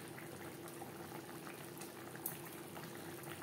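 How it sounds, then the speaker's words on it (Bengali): Pabda fish curry with vegetables, cooked without garlic or onion, boils steadily in its gravy, giving a continuous close bubbling and simmering hiss with no voices. "গ্রেভির সাথে 2-3 মিনিট মাছ বেশ ভালো করে ফুটিয়ে নেওয়ার পর"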